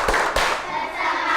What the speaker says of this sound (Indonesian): yuk semuanya tepuk janji fokus